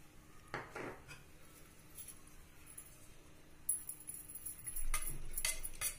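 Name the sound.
mixing milk powder into cake batter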